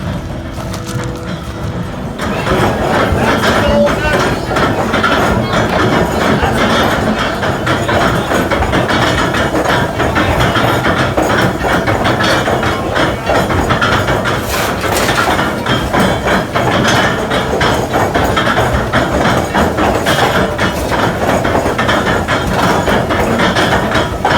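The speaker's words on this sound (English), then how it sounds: "That loud noise in the background is, they have an old stamp mill that's starting." A loud, continuous mechanical clatter of an old stamp mill pounding at a gold mine, dense and unbroken after a brief quieter start, dominating the scene.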